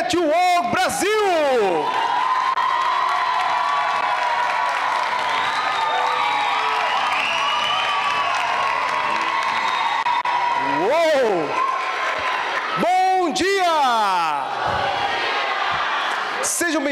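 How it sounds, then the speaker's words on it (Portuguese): Audience cheering and applause greet the start of Catwalk Brasil Cinema, a children's modeling fashion show, with loud sustained crowd noise and whoops running through most of the span and a voice calling out near the start and end. "Uma salva de palmas para o Catwalk Brasil!"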